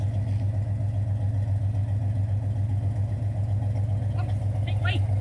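A 1971 Chevelle engine idles steadily with a deep, continuous low rumble throughout, close by, with faint voices in the background.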